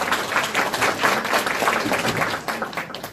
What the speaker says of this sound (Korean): 교수님께 큰 박수 부탁드립니다.